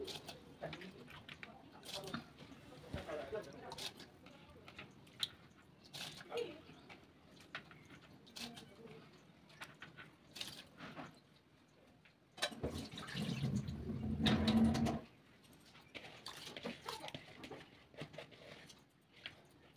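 Soaked rice is tipped into a pot of boiling water for fried rice, making a steady rushing hiss for a couple of seconds over low bubbling, while a person talks quietly around it.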